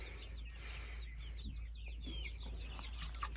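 Backyard chickens in a coop cluck softly from a short distance, with several overlapping, irregular calls over a low steady background hum and no talking.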